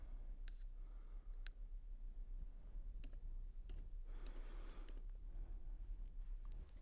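Sharp, dry mouse clicks on a computer, a few scattered single taps and short pairs at a close, quiet level over faint room hum, with no talking.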